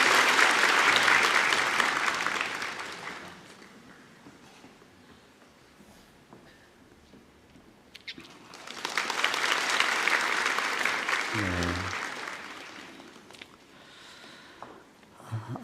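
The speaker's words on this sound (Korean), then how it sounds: "우리 박수로 이 아이를 축복합니다" A church congregation claps during a Sunday service, with two long bursts of applause separated by a quieter stretch in the middle.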